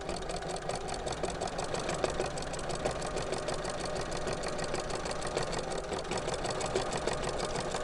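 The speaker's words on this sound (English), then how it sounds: "Whenever you start and stop, you make sure to backstitch." A sewing machine backstitching a Christmas stocking runs steadily with a fast, even mechanical whir and rapid needle ticking, close and moderately loud, with no talk over it.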